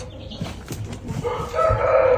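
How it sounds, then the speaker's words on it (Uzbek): A rooster crows once at close range, a short harmonic call rising out of low background rumble near the end, with no talking over it. "Xo'roz o'g'illas."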